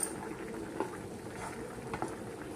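Okra and tamarind curry bubbling in a pot, a steady soft simmering wash with occasional louder bursts of bubbles, close and alone.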